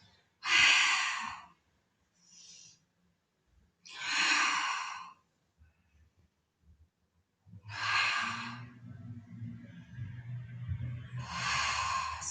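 Strong, breathy exhales during a Pilates abdominal exercise come in four separate bursts with pauses between them, close and loud, and a low hum rises under the last two.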